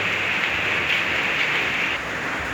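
Steady, dense rain from an approaching storm hisses evenly throughout at a close, fairly loud level, with no talking, in an outdoor rural Thai cooking setting.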